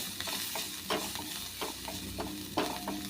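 Turmeric and red chili powder sautéing in oil in a pan, a continuous close sizzle with repeated soft scrapes and stirs of a spoon at an uneven rhythm.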